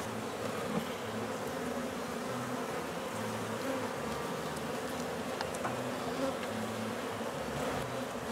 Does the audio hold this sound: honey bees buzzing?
yes